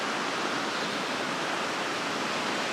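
Waves break on Balnakeil Beach on Scotland's north coast, a steady broadband rushing wash with no distinct individual crashes, close and continuous, with no voices.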